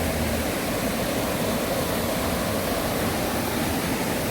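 A mountain valley stream runs past a campsite, its steady broadband rush filling the scene evenly and loudly with no breaks or voices.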